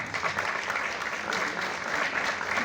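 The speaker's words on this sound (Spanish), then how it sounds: "Un aplauso fuerte para el ilustrísimo maestro Carlos Román." A crowd applauds loudly and steadily, a dense wash of clapping that continues for the whole clip.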